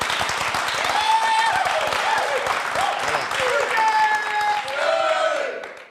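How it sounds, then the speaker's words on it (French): Audience at a Christian gospel gathering applauding, a dense, sustained round of clapping with cheers and excited voices over it, dying away at the close. "Je veux qu'on acclame le Seigneur pour cela."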